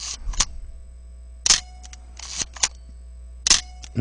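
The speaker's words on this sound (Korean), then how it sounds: "FM2는 뭔가 팅 하고 약간 울림이 있어요" Nikon FM2 film camera shutter released three times at even spacing, each a sharp close mechanical snap with a slight ringing tail, separated by near silence with faint handling clicks.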